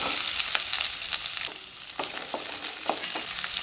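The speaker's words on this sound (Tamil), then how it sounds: "வெங்காயம் வதங்கிறது" Sliced onions sauté in oil in a kadai, giving a continuous close hiss and crackle with a few sharp stirring taps and scrapes spaced through it, and no voices.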